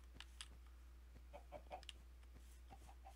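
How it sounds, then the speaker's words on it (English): Scattered soft clucks from chickens in the Pixelmon Minecraft mod, faint and intermittent over a steady low hum, with a few light clicks in between. "I hear chickens."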